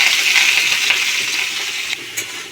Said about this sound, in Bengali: বিনস গাজর ক্যাপসিকাম একসাথে ভেজে নেব।